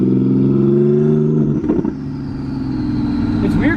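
A twin-turbo Nissan 370Z drives at a drag strip, its engine droning loud and close with a steady harmonic hum that dips and wavers briefly midway, as during a gear change, then builds again.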